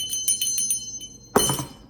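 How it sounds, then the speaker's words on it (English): A small bell rung in a quick train of light dings, followed by one brighter, louder strike that rings and fades, close and with no talk. "And a bell,"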